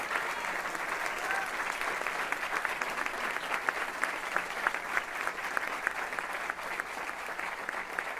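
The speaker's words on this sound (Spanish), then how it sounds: "les quiero pedir un aplauso para todos los candidatos y candidatas" A seated audience gives steady applause for election candidates at a meeting, many hands clapping evenly for a long stretch, moderately distant and uniform.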